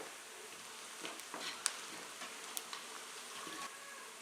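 Sliced food sizzles steadily in a hot frying pan, a faint, even crackle with small scattered pops throughout and no talk.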